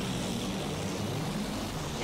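A fighter plane's propeller engine drones in Battlefield 1, a steady, fairly faint aircraft hum holding level throughout with no voices.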